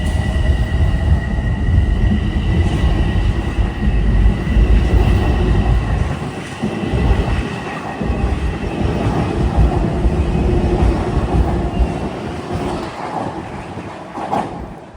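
Metro-North train 559 bound for North White Plains, made up of M3 cars, pulls into a Harlem station on a windy day, a loud steady rumble of wheels and traction noise with rail clatter and a brief squeal near the end.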